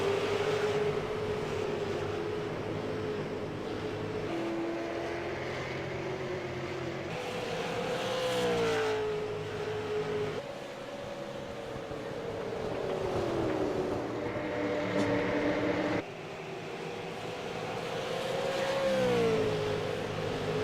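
Race car engines in the Tundra Super Sim Series sim racing game at USA International Speedway roar steadily as the pack accelerates on the throttle out of turn 4 after a green-flag restart, pitch rising and sweeping as cars pass.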